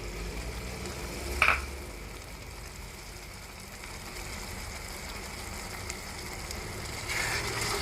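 Green beans dropped into minced meat frying in a pan, a soft continuous sizzle with a sharp clatter near the start and gentle stirring noises, close and fairly quiet throughout.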